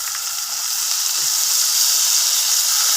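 Spices and garlic paste sizzle hard in hot mustard oil, giving a loud, bright, continuous hiss that swells slightly toward the end.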